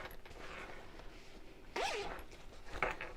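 Zips on the inside top of a lined fabric bag being handled, two quick faint zipping pulls up close in a quiet room, with soft handling rustle between them.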